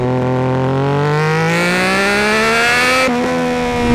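A Triumph Daytona 675 engine with a rare Arrow exhaust revs loudly and close by, its pitch climbing smoothly in a sustained wail, then dipping briefly before rising again.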